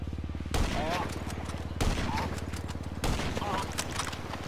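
Three loud gunshots from a marksman rifle in GTA 5 Online, spaced about a second and a quarter apart, each ringing out over a steady low game hum.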